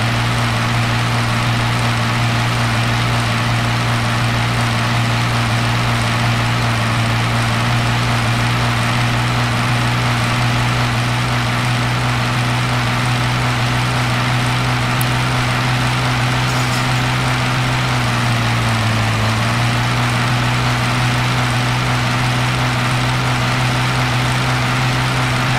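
A loud tractor engine drones steadily at close range, a deep throbbing hum that dips briefly in pitch before settling back, with no talking.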